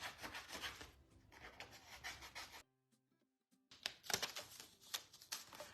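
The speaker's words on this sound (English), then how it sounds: "I'm just going to kind of trim this down a little bit." Paper being trimmed for decoupage on a glass frame, heard as close, quiet rubbing and rasping strokes in short bursts, with a brief pause before the cutting resumes.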